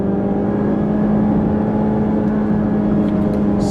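A 2014 Mazda3 with a 155-horsepower engine accelerates hard from a standstill toward 60 mph, a steady loud engine drone and road roar heard from inside the cabin, continuous throughout with no talk.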